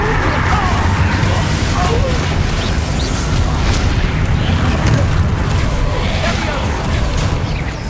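Confringo blasting spell explosions in the Hogwarts Legacy video game boss fight, a dense roar of booming blasts and rumbling impacts, loud and continuous with faint voices mixed in.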